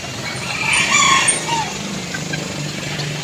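A rooster crows clearly in a small backyard in Bagong Silang, one drawn-out call standing above steady background noise with faint traffic.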